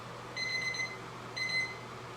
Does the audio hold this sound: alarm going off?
yes